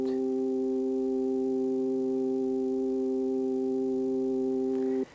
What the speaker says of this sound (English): And this is the sound of the perfect fifth.